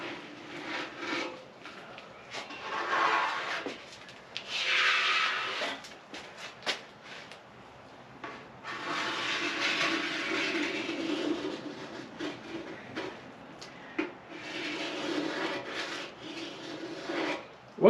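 A scraper rasps over the steel fuel tank of a 1973 Honda CB450, stripping paint in repeated bursts of harsh scraping separated by short pauses, close and fairly quiet.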